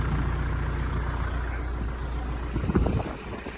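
A YTO EX economy-class farm tractor's diesel engine runs steadily and fairly close, a low rumbling drone with a brief louder surge near the end and no talking.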